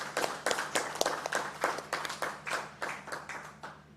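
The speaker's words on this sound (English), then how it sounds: "I'd like us to give a big hand clap to the Commission for all the work they've been doing for the past year" Applause for a human rights commission at a public meeting: many hands clapping in a steady, moderately loud patter of sharp claps over a faint low hum, with no talking.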